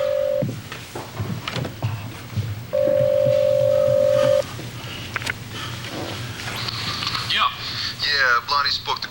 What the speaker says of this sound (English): Let me get a call on the cell phone.